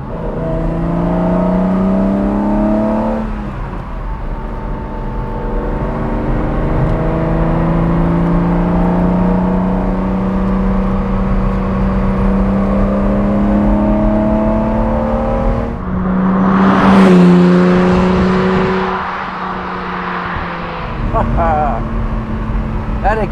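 A 1980 BMW M1 sports car drives along a dry road, its engine whirring and rising in pitch through several gear pulls, with a louder acceleration surge near the end, under someone talking over it.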